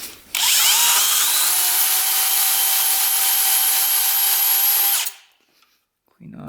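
A small rotary power tool grinds steadily against the metal ground contact on an old barn-find mini enduro motorcycle, a loud, even high-pitched whine lasting about five seconds before winding down and stopping.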